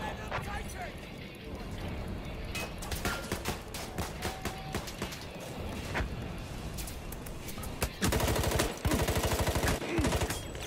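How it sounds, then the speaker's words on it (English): Rapid gunfire in a multiplayer flag-capture shooter game: dense bursts of shots run throughout, with louder, heavier automatic volleys near the end, some overlapping game sounds and talk in the mix. "I'm getting shot from behind."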